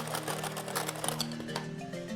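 Electric hand mixer beating softened butter with cream cheese for cinnamon roll frosting, giving a close, steady motor whir with a shifting pitch as the beaters churn through the mixture.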